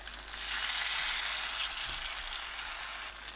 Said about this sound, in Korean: 달군 팬에 식용유 두르고 깻잎 올려 중불로 부치세요.